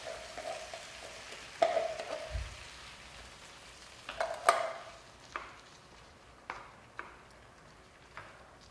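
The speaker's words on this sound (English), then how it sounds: "We're going to add a can of tomatoes. A can of tomato sauce." Canned tomatoes and tomato sauce going into a cooking pot, heard as a few sharp clanks and pours, along with a soft sizzling wash and scattered light knocks, with no talking.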